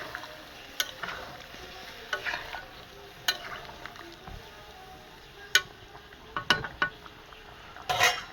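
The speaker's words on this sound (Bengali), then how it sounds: "মশলা থেকে যে তেলটা ছেড়ে দেবেন, দেওয়ার পর একদম পুরো কমপ্লিট হয়ে গেছে, মাংস ভেজে নাও।" Meat and spices fry in oil while someone stirs them. A low sizzle runs throughout, and sharp clinks and scrapes of a utensil against the pot come at irregular intervals.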